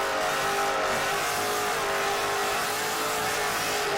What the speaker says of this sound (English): Just from the speakers, it sounds like a loud ass car.